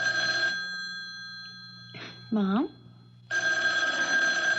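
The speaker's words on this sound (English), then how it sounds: "Why don't you answer the phone?" An electric telephone bell rings in steady bursts in a 1978 television drama, loud and close, stopping while a woman calls out briefly in between, then resuming.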